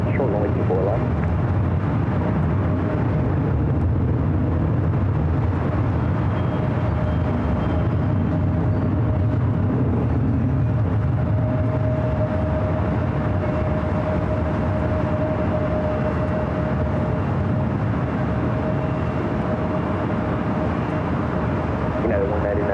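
A Qantas Airbus A330-200 airliner arriving from Brisbane at LAX makes a steady, heavy engine roar that holds loud and constant throughout, with a faint tonal whine running over the deep rumble.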